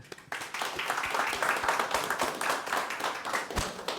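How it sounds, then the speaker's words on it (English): Conference audience applauding at the close of a talk on the psychology of software teams, a dense steady patter of many hands clapping close by for about four seconds, with some faint talk mixed in. "Can we have a round of applause?"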